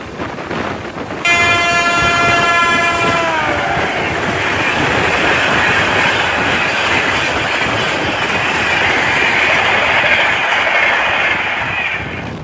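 A passenger train runs loudly on its rails, with a horn sounding in a steady stacked tone for about two seconds near the start, then continuous rumbling wheel and track noise close by to the end.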